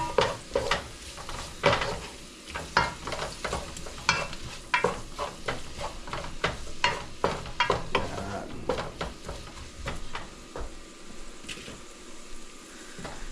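Chili peppers sautéing in a hot pan for chicken tinola, a steady sizzle and fry with repeated scraping and clinking of a utensil stirring against the pan, close and alone with no talk.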